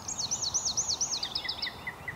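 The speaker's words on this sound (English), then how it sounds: "That wren's back on that tree now, you can hear him." A wren sings from a tree, a rapid high-pitched trilling phrase that tumbles and fades into a few scattered notes, clear against a quiet outdoor background.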